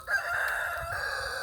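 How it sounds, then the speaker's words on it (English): A buff Orpington rooster gives a single short crow, loud and close, cut off after about a second and a half. "my buff Orpington rooster"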